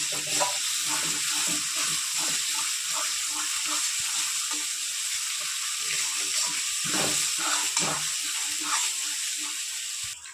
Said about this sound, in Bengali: সমস্ত মশলাগুলো ভালো করে কষিয়ে নেব